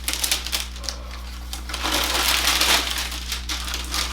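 Wrapping paper from a Nike Air Max 1 sneaker box crinkles and crunches up close, with loud bursts of rustling and crumpling over a low steady hum.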